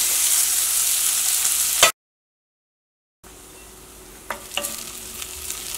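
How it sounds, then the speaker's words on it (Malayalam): Sliced onion and ginger frying in hot oil in a pan, heard as a dense, steady sizzle that cuts out briefly, then returns softer with a few stirring clicks and scrapes. "ഇപ്പോൾ നമ്മുടെ സവോളയൊക്കെ നന്നായിട്ട് മൊരിഞ്ഞ് വന്നിട്ടുണ്ട്."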